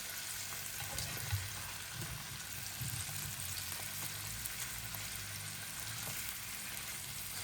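Sea bass fillet frying in butter in a pan, a steady soft sizzle with faint crackles running throughout, fairly quiet and close, with no talking.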